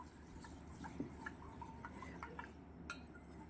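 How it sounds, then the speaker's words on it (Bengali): A ladle stirs mustard seeds soaking in water in a pot, giving light, scattered clinks and taps with a steady soft background and no voices. "এই হাতা দিয়ে এটাকে নেড়ে দেওয়া হচ্ছে যাতে ওটা ভালোভাবে জলের মধ্যে মিশে যেতে পারে"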